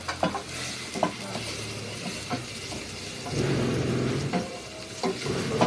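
Onions sizzle and fry in a pan for Bisaya-style adobo while a utensil scrapes and stirs them in repeated strokes, a steady close crackle throughout.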